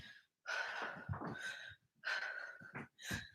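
Heavy, forceful breaths during a core workout in a fitness studio livestream, in three loud, breathy bursts with short silent gaps between them, close to the listener.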